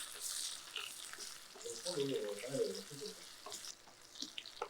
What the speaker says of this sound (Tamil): பூண்டு மட்டும் கொஞ்சம் நல்லா வதங்குச்சுன்னா வாசனை ரொம்ப நல்லாயிருக்கும்